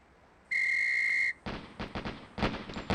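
A whistle signal in the Police Quest SWAT shooting range, one steady shrill tone lasting under a second, followed by a quick series of sharp gunshots with no talk.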